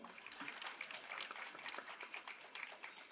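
An audience at a public speech breaks into applause, a steady patter of many hands clapping at moderate distance, fairly soft and continuous without talk.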